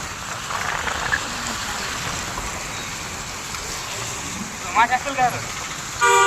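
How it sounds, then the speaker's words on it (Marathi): Steady hiss of rain falling throughout, with a few brief louder knocks and a faint tonal sound near the end. "पाऊस चालू असल्यास खरंच मजा आहे बरं का इकडे"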